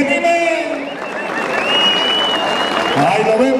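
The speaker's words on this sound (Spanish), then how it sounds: "Un aplauso a mi jinete, oiga, para que se anime." Crowd applause in a bull riding arena at a rodeo, with a loud, steady spread of clapping from the stands and an announcer's voice and crowd noise running over it.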